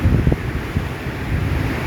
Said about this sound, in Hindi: हवा बहुत तेज़ चल रही है इधर